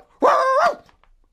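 A dog aboard a spaceship gives one loud, close bark that lasts about half a second, then falls silent.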